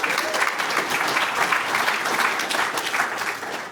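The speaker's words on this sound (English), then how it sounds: "Round of applause for all of our panelists." Audience at a mining and civil construction business networking event applauds a panel, steady dense clapping throughout at fairly close range.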